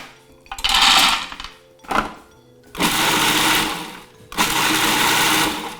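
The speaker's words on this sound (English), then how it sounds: "First, grind the pistachios." A food processor grinds roasted unsalted pistachios in short bursts. Three loud pulses run for about a second or more each, with brief rattling gaps between them, close and without talk.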